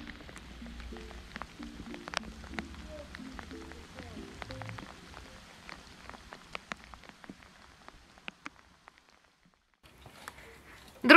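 Rain patters on surfaces during a feeder fishing trip at a reservoir in Belarus, scattered close droplets tapping irregularly over a faint background, with a few louder knocks near the end.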